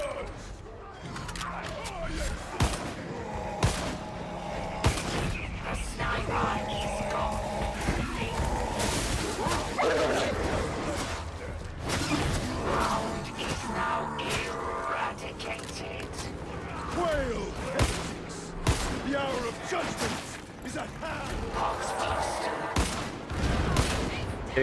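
Sustained gunfire in Darktide, with rapid bursts, sharp cracks and crashing impacts running continuously throughout, a voice talking intermittently underneath the combat din.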